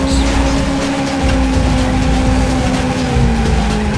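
A car in the Powerslide racing game drives around a track, its engine a steady loud drone with a sustained whine, skidding and tyre noise layered throughout.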